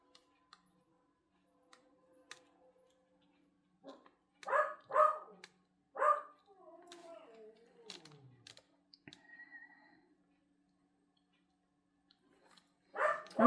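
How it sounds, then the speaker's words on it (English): A dog barks in a few loud, close bursts, a cluster of three sharp barks followed by softer whining yips and a final bark, with quiet gaps and light tapping between them. "He's coming in telling me he was barking."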